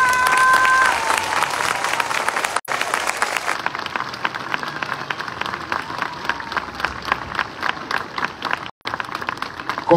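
A large crowd at a Holy Thursday Via Crucis in Panindicuaro claps continuously in loud, sustained applause, dense and steady throughout.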